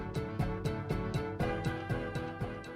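A musical piece assembled from New York subway sound samples and snippets of local musicians, with a loud, dense layered texture driven by a steady rhythmic pulse of sharp percussive hits repeating about every quarter second.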